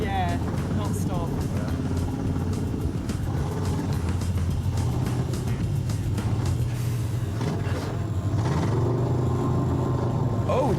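A vehicle's V8 engine rumbles loudly and steadily as it reverses during a competition challenge, a continuous low drone with voices talking over it.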